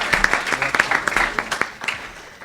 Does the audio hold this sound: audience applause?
yes